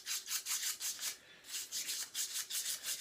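Scrubbing out sight glass pump housing parts from a homebrew kettle setup, a rapid rhythmic rubbing swish repeated in steady strokes with one short pause, close and moderately loud, no voices.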